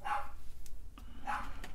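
An excited dog barks twice from some distance below, two sharp separate yaps about a second apart over a quiet room background.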